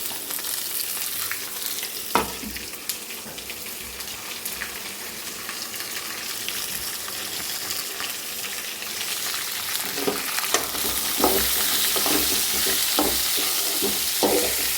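Coconut pieces and garlic sizzle steadily in hot oil in a pan, a close, continuous frying hiss with occasional scraping clicks as the mix is stirred, the stirring growing busier toward the end.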